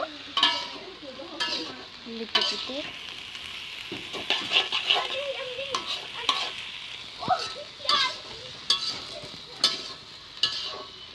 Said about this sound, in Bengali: তো কেটে নিয়েছি, এখন এটাকে কড়াইয়ে ঢেলে